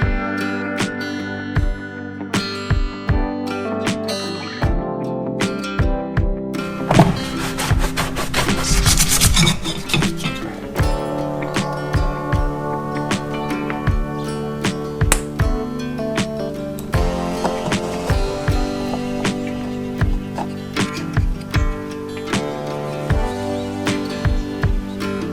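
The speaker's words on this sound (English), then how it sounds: "I'm gonna have to take my Dremel with this cone grinding wheel and grind out a bit of a channel on top of the crack" A Dremel with a cone grinding wheel cuts a channel over a crack in metal on a Honda MT250 Elsinore, making a continuous high rasping whine with short stops and changes in pressure, close and loud throughout.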